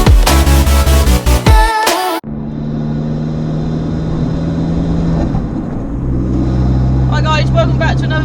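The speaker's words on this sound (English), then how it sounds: "So the Panda now sounds absolutely lush. It sounds like a little Abarth." Fiat Panda fitted with an Abarth Monza exhaust, heard as a steady, loud engine drone and rumble that follows a burst of music and carries on close and continuous to the end.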